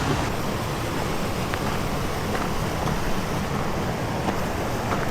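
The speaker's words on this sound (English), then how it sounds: "Look at all these waterfalls around here." Mountain waterfalls around a remote lake rush in a constant, loud wash of white noise that fills the scene without letting up, with no talking.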